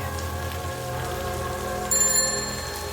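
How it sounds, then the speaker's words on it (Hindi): A faint bell rings among trees in a rain-soaked night scene of a Hindi horror story, thin high tones arriving briefly near the end over steady rainfall and low droning ambience. "पेड़ों के बीच से एक हल्की घंटी की आवाज आती है।"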